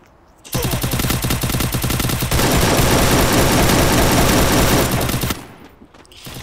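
Rapid automatic gunfire from the video game Free Fire rattles loud and continuous for about five seconds, a dense unbroken burst of shots that stops abruptly.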